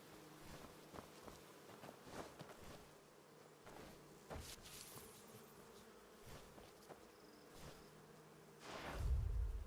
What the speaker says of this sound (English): There should be bees.